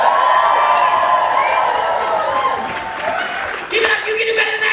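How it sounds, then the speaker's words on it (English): Audience at a poetry slam final at a writers festival bursting into applause and cheering on cue after a poem, a loud, dense wash of clapping and whoops that carries right through before dipping slightly. "I finished my poem, you applaud like crazy."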